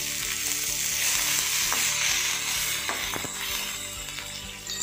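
Curry leaves and coriander are tempered in hot oil, a loud, steady crackling sizzle with a few scraping stirs, and no voices.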